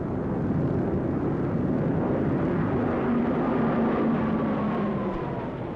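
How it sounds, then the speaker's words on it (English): Japanese World War II warplanes drone in a dense, continuous roar, loud and steady for several seconds with a faint rising whine over it, as if many aircraft are flying overhead. "These are Japanese planes."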